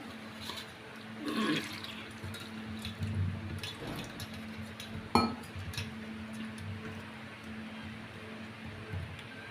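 Faint splashing and dripping water as potatoes are washed, mixed with occasional clinks of a pot or bowl, irregular and close, with no voices.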